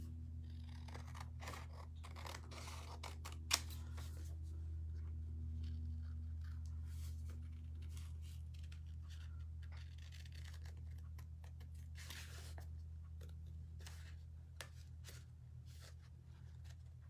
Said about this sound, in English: So I'm just cutting out my pedestal.